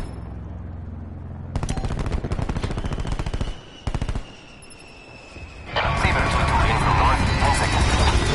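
A sentry gun in a video game fires in long, rapid automatic bursts, loud and close, with a brief pause mid-stream and a denser, heavier roar of gunfire near the end.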